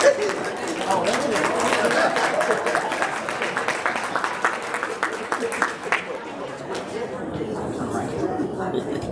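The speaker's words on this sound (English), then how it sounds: "if we could just give him a round of applause" A conference audience at a mental health event claps for an incoming speaker, a broad round of applause with some chatter mixed in that tapers off after about six seconds into scattered claps and murmurs.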